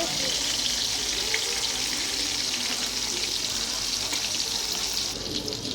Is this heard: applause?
no